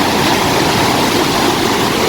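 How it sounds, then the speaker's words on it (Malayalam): Loud, steady roar of floodwater rushing out through the opened shutters of Pechippara Dam in Kanyakumari after heavy rain, a continuous broadband torrent filling the whole clip with no let-up. "ഭയങ്കര ശബ്ദമാണ് ഈ വെള്ളം ഒഴുകുന്ന ശബ്ദം"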